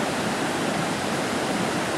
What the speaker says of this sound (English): Right next to the Roaring Brook here